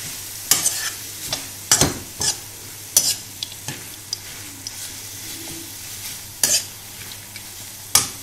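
Spicy zucchini noodles are tossed in a hot pan, with a steady sizzle underneath and repeated sharp scraping clatters of utensil against pan at irregular intervals.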